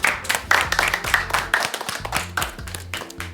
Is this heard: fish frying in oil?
no